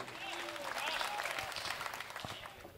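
Audience applause at a Hindi comedy poetry gathering (hasya kavi sammelan), a steady wash of clapping that holds for a few seconds, with voices and crowd murmur mixed in underneath.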